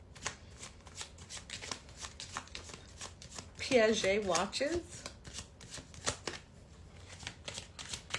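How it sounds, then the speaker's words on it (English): Tarot cards are shuffled in a crisp, fluttering riffle lasting about a second, set among steady soft card handling and under a woman's ongoing speech. "Sometimes I shuffle on camera."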